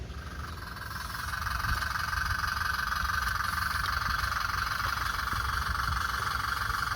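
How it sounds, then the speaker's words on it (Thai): A Ford diesel tractor engine runs steadily at idle, a constant low rumble with a rattling drone, close by and fairly loud with no one talking. "เดี๋ยวเราสตาร์ทเครื่องแป๊บนะครับ"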